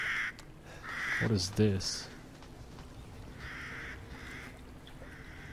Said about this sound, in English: These fucking crows again.